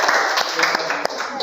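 Scattered, uneven hand claps patter from a group of schoolchildren, fairly close, with a busy mix of voices running underneath.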